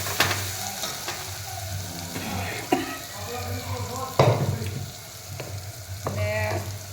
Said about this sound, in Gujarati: હવે આપણે એમાં આદુ મરચાં અને લસણની પેસ્ટ નાખી દઈશું,